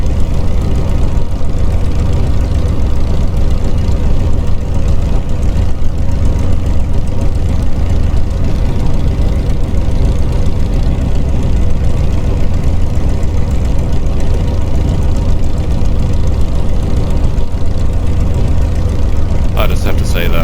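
A Supermarine Spitfire L.F. Mk IXc piston engine idles steadily while the aircraft taxis at an airshow, a loud, continuous low rumble throughout with a brief change near the end.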